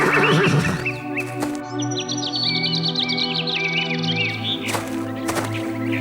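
A horse whinnies loudly at the start, followed by a sustained droning tone with birds chirping over it, and another whinny toward the end.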